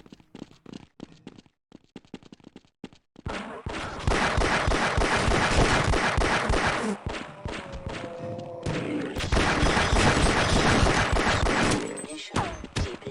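Rapid video game gunfire during a Fallout-style vault mission, starting as sparse clicks and shots before erupting into loud, dense sustained bursts and heavy thuds that run continuously through most of the clip.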